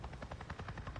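A helicopter in the video game Days Gone thuds with a steady rapid rotor chop, about nine beats in a second, faint and low in level with no talk over it.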